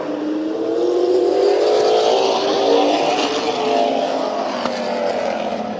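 Race cars lap Orange Show Speedway during a trophy dash, engines roaring loud and continuous with rising and falling pitch as the field circles the oval, no talk over it.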